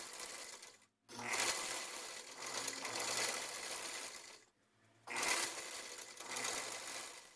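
A sewing machine stitches the side seam of a blouse in two long, loud, steady runs, each starting abruptly after a brief pause, with a low motor hum under the rapid needle chatter.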